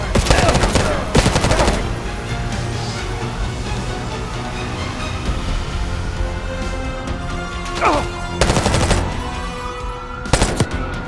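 Weapons fire in the shooter Call of Duty: Black Ops 6, loud clusters of rapid automatic bursts near the start and again near the end, over a constant roar of battle ambience.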